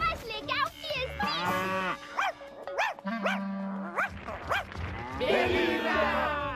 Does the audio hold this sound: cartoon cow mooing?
yes